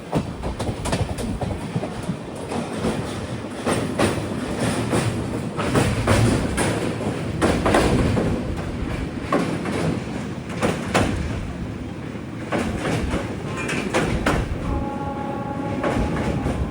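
Ernakulam-Bengaluru Express sleeper train running just past Aluva in Kerala, a steady, loud rhythmic clickety-clack of wheels over rail joints filling the whole stretch without any voices.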